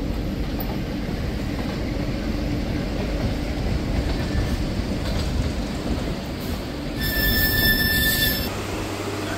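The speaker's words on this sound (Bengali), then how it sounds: "এই যে হাওড়া নিউ দিল্লি দুরন্ত এক্সপ্রেস এই মুহূর্তে কিন্তু হাওড়া স্টেশনে ঢুকছে" Howrah-New Delhi Duronto Express with LHB coaches entering Howrah station, a steady rumble of wheels on rails with a sharp high squeal of wheels rising near the end.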